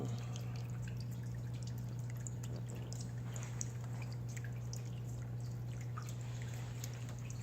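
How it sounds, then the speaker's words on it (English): A garden fountain flows steadily, a constant close trickle and dribble of falling water with scattered drips over a low steady hum, no voices. "There's another fountain flowing right now."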